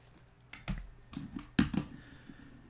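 Keys clatter on a computer keyboard in a quiet room, a few uneven bursts of clicks and taps spread over a couple of seconds, close and fairly soft, with no voices.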